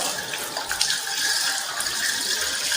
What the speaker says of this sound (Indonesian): Pastikan air mengalir sampai siku-siku.